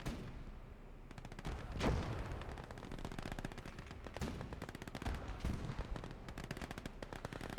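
Tank and machine gun fire in the Gates of Hell Ostfront World War II game: sustained rapid bursts of automatic gunfire crackle continuously, with heavier booming shots punching through at intervals, loud and dense, with no talk.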